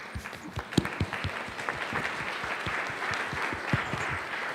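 An audience at an AI conclave in a Trichy hotel breaks into applause, a dense run of many hands clapping steadily for several seconds at moderate distance, with no speech over it.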